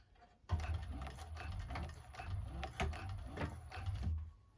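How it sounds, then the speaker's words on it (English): A 1341 cylinder arm sewing machine top-stitching around a handmade bag, a steady rapid mechanical chatter running continuously after a brief quiet start, close and moderately quiet. "We're going to just sew all the way around it."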